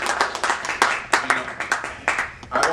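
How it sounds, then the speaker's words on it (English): A small committee audience gives a round of applause after a coaching presentation in Las Vegas, with sparse, uneven claps from a modest group that rise and fall in loose bursts, fairly close and fading between clusters. "I think we need to give him a round of applause"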